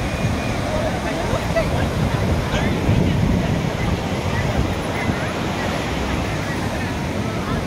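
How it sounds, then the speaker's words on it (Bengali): Rough sea waves breaking on Puri beach, a continuous loud roar of surf with heavy wind buffeting the microphone throughout. "আর এই উত্তাল সমুদ্রের ঢেউ।"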